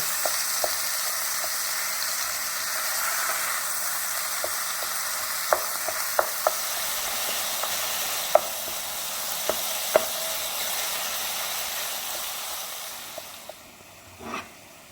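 Ground beef sizzles and fries steadily in a pan with dehydrated minced onion and garlic powder, a continuous hiss broken by sharp scraping clicks as the meat is broken apart, with no talking.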